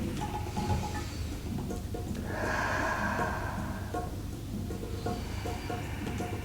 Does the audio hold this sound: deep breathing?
yes